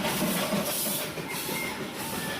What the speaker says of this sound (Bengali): এই পাশ দিয়ে টয় ট্রেন চলে যাচ্ছে, এটাও স্টিম ইঞ্জিন টয় ট্রেন।